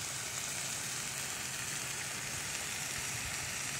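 Bacon frying on a Blackstone griddle gives off a steady, even sizzle, a dense crackling hiss heard close and fairly quiet, with no talking over it.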